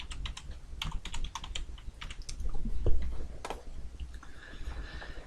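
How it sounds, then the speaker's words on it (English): Typing on a computer keyboard while entering a word into laser engraving design software for a 3018 PRO machine; quick irregular bursts of close, crisp key clicks. "we're going to type caution"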